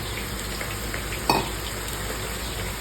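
Fried onion, raisins and cashews sizzle in ghee in a pan with a steady crackling fry, one sharp clink of a utensil partway through and no talking.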